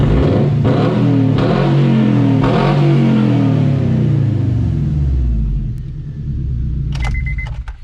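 A loud, raw Honda car engine with an open UEL header revs hard several times in rapid bursts, deep and throaty, then settles to a rumbling idle before cutting off.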